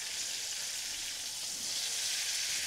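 A steak searing in a hot pan, a steady, bright, close sizzle that hisses evenly throughout with no talking.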